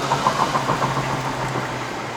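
A 2021 Proton Saga 1.3L manual engine drones at an even pitch while climbing uphill to Genting, heard from close by, without noticeable revving or changes in speed.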